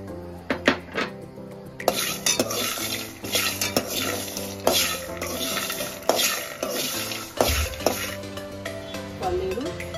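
Peanuts and fenugreek seeds dry-roast in a pan, with a spoon or spatula scraping and clinking against the metal in an irregular rhythm over a soft sizzling hiss, close and loud, with no talk.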